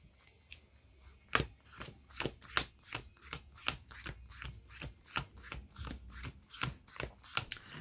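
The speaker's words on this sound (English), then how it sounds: "Get a real good shuffle in there." A Yu-Gi-Oh! trading card deck being shuffled by hand, a rapid series of crisp riffling snaps and flicks in an uneven rhythm, close and fairly quiet, with no voices.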